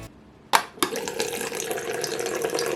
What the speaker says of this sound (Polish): pora nalać wodę